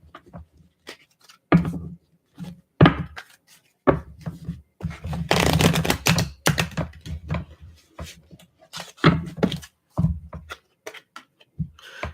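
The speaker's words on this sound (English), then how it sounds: "Let's do one more shuffle." Tarot cards shuffled by hand in a series of short, crisp riffling and slapping bursts, with brief pauses between them and a longer, denser riffle partway through, close and fairly quiet.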